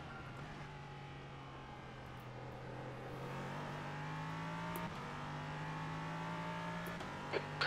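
LMP3 prototype race car engines in the iRacing sim at Oulton Park, a steady high engine drone with rising and falling revs through gear changes, loud and continuous, with no talking.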